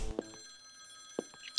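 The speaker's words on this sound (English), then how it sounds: "Another phone call?" A telephone ringing in the game Follow the Darkness: a short bright electronic trill with sharp clicks, heard alone, no talk.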